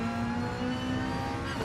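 Super GT race car engine in Gran Turismo Sport, held low in third gear through a hairpin on the Dragon Trail circuit, giving a steady, loud droning whine with a sustained tonal hum and no talk.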